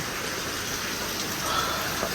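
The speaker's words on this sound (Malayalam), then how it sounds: "എന്നാലും മഴയൊക്കെ വേഗം തോരട്ടെ" Heavy rain falls in a steady, dense hiss that swells slightly toward the end of the brief stretch, with no voices.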